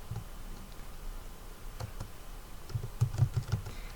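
Typing on a computer keyboard while entering text into a display document, heard as scattered light key clicks that cluster into a quick, louder burst of taps near the end, close and alone without talk.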